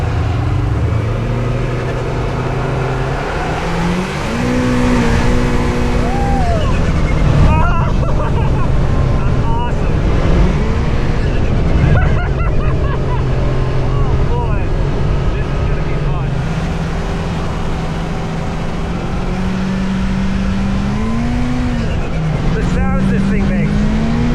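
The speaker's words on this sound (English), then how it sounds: "Ooh, that sounds so cool. Is that the supercharger?" A Kawasaki Teryx5 H2 side-by-side with a supercharged engine runs at full power, a loud steady engine roar with rising and falling pitch as it drives along a trail, wind buffeting the microphone and people talking over it.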